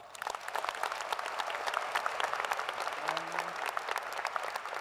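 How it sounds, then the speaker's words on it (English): A commencement audience at the UNC-Chapel Hill computer science ceremony gives awardees a final round of applause, steady dense clapping from a large crowd filling the room for the whole stretch, with a brief low tone sounding midway. "please give our awardees one last round of applause"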